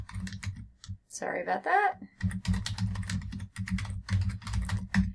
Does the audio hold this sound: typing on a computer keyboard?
yes